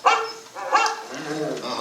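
Rover the dog gives a couple of short, close barks in quick succession, with a brief whimpering tail at the end.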